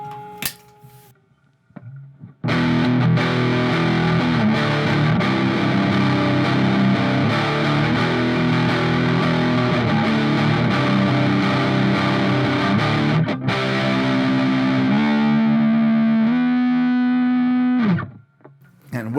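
An electric guitar is played through a Donner Extreme Driver distortion pedal, giving loud, thick overdriven chords that sustain continuously, then a held bending note before the sound cuts off near the end.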